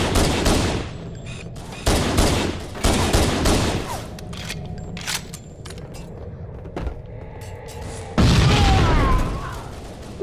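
Gunfire and grenade blasts in a video game, with loud bursts of rapid shots and heavy booms, several separate volleys broken by quieter gaps and a final large blast.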